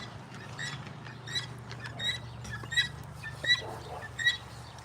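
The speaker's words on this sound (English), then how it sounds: "That sound was the guinea hen." Guinea hen calling on a farm during morning chores: a series of sharp, repeated metallic chirps at irregular intervals, moderately near, over a steady low hum of background noise.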